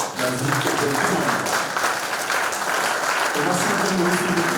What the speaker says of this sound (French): Ovation bien longue.